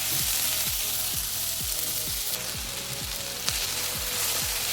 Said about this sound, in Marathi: कांदा टाकायचा, टोमॅटो पण टाकायचं आणि सगळं एक मसाला एकदम छान भाजून घ्यायचा तेल सुटेपर्यंत